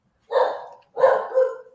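A pet dog named Tank barks twice, close and loud, in short separate bursts against silence.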